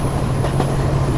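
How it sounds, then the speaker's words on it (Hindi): A Subak Raftar railcar train comes in close and loud, a steady rumble of wheels on track with a low droning hum and faint rhythmic clatter, and no voices. "ये आ गई थी हमारी पूरी ट्रेन"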